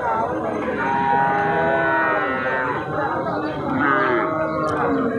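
Holstein Friesian cows mooing at a cattle market, long drawn-out lowing calls, loud and close, overlapping one another amid faint background chatter.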